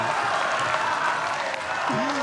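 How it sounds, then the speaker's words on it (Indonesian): Sustained applause from a large crowd at an Indonesian presidential debate fills the space, steady and dense, with a voice briefly audible beneath it near the end. "memberikan tepuk tangan yang paling meriah untuk kedua pasangan calon presiden dan wakil presiden"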